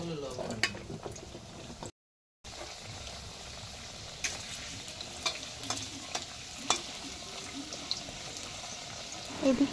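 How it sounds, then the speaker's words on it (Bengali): Potatoes frying in hot oil in a wok, a soft steady sizzle with occasional stirring clinks and scrapes, heard close up, with one brief gap of silence. "তেলটা গরম হয়ে গেলে আলুটা প্রথমে ভেজে নেব।"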